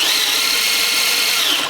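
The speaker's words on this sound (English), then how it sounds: "That's actually pretty quick for a 55 turn motor on the vehicle." A 55-turn electric motor drives an RC Humvee in high gear, a steady high-pitched whine that holds evenly for the whole stretch before easing off at the very end, close and alone with no talk.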